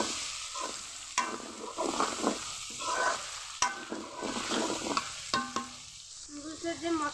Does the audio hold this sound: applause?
no